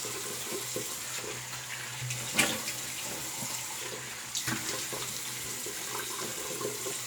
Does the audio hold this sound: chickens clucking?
no